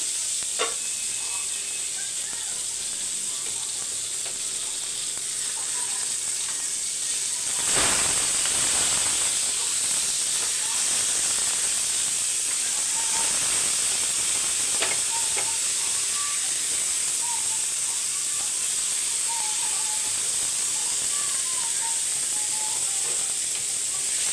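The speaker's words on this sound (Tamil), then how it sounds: "ஓகேவா மூடி வச்சிடலாம் மீனை திருப்பிக்கலாம்" Fish frying in a covered pan: a strong, steady hiss of steam and sizzle that swells sharply about a third of the way in, with faint metallic clinks, close and unbroken.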